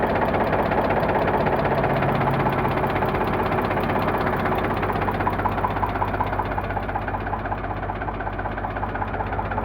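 An Eicher 485 tractor engine idles nearby with a steady, dense diesel rumble and a rapid knocking pulse that holds at a constant level throughout.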